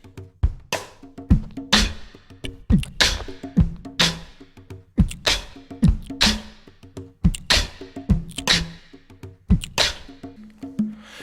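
Vocal beatbox rhythm imitating a drum kit's bass drum and rim shot, with punchy low kicks alternating with sharp clicky snaps in a steady repeating groove, close and clear with no other sound.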